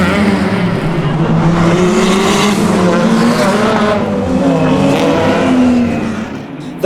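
Race cars from a feature race at the Waimate 50 street-circuit motorsport festival, including an RX3, roar past in a continuous loud engine drone that rises and falls as they speed by, with no voices heard.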